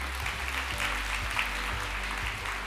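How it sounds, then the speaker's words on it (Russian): Audience applause for singer Suzanna Svetlichnaya at the ceremonial opening of an all-Russian student graduation event, a steady wash of clapping with low music or rumble beneath. "Ваши аплодисменты."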